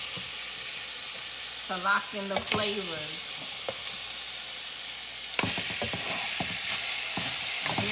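Steady, bright sizzling of goat meat searing in a pan on the highest heat, with a brief voice speaking over the crackle partway through.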